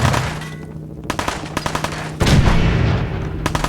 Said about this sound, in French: il va y avoir de la baston. De la fusillade plutôt